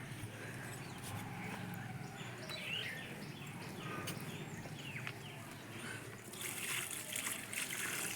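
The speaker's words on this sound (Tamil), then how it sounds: "தண்ணி ஊற்றவா?" Water trickles and splashes steadily as it is poured onto a newly planted banana sapling in a village garden, with birds chirping faintly in the background throughout.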